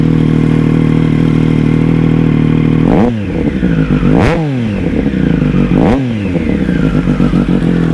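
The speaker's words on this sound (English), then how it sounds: "Have a listen to the sound of this bike." A 2020 Triumph Moto2 Daytona 765 motorcycle idles loudly up close, then revs sharply three times in quick rising and falling blips before settling back to a rough idle.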